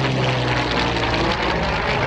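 Loud, steady drone of a P-51 Mustang propeller plane engine taxiing close by at an air show, a dense continuous roar with no voices.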